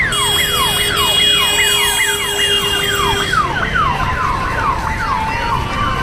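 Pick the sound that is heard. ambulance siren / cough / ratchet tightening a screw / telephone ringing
ambulance siren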